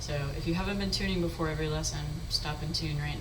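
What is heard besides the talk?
None of the usual background noises is heard.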